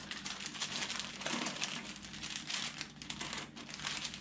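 Scissors snip steadily around the three small fingers of a Baby Yoda fabric sewing pattern, a close, continuous crisp rustle of blades and cloth with no talking.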